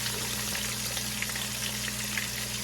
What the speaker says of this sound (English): so we're just gonna fry these steaks up